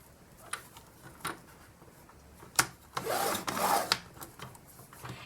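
Paper is scored with a tool for a milk carton box: a few short scraping rubs and taps, then a longer rasping drag midway, close and fairly quiet.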